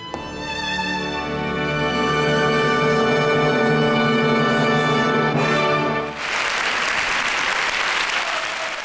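A theatre audience applauds after a ballet performance. Sustained, dense clapping under loud closing music, then the music stops and the applause continues alone.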